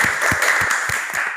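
Classroom applause, a small group clapping in a quick, loose, steady rhythm for just over a second, close and moderately loud, with no talking over it.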